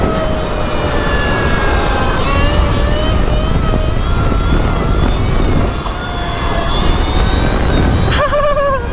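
A Sur-Ron electric motorbike, tuned to about 80 horsepower, runs at full power with a steady high whine and heavy rushing wind roar, the pitch sliding upward as it accelerates.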